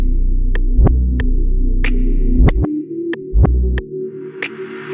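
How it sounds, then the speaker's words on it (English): A loud bass distorted with a Decapitator plugin plays a series of sustained low notes with sharp plucked attacks, gritty and thick, alone without vocals. "Decapitator is a distortion plugin that I'm going to be using on the bass"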